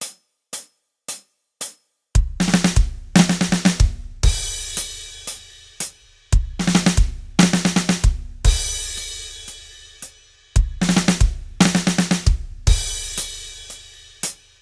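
Drum fill played at its original tempo on a kit: a few sparse opening hits, then repeated bursts of rapid tom and snare strokes punctuated by crashing cymbals, loud and close, with no talking.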